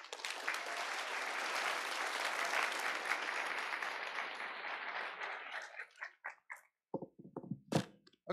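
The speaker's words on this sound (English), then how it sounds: "can I hear the final perfectly calibrated round of applause of the night?" An audience at the close of an afternoon conference session breaks into steady, full applause for about five seconds, then the clapping thins into a few scattered claps before a voice starts speaking.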